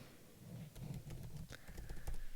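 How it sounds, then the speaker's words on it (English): Light, quick taps of typing on a computer keyboard as a search phrase is entered, faint and close with a few irregular keystrokes. "So just type in portrait books."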